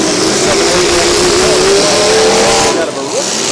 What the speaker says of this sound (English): Pickup truck getting jockeyed around.